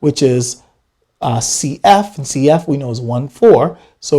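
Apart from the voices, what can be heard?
No everyday noises stand out.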